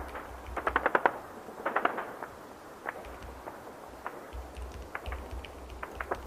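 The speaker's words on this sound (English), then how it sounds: "Tracer rounds being shot overhead" Bursts of gunfire with tracer rounds shot overhead in Beirut, Lebanon during wartime strikes, rattling in irregular volleys of sharp distant cracks that come in clusters and then thin out.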